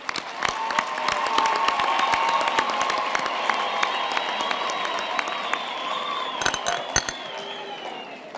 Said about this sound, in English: I think we can give them all another hand of applause.